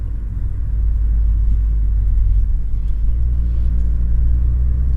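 A car on a test drive, being checked after a K-Seal treatment for coolant leaks and head gasket trouble, rumbles steadily with a deep, even engine and road drone throughout, no voices.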